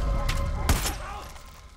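A sharp gunshot in Far Cry 5 bursts out once, followed by a decaying rumble, set against low background noise and faint game sounds.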